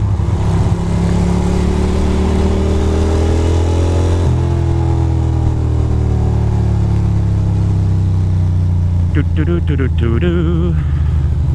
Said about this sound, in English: Can't even tell what kind of bike it is. But it's all good. Off he goes.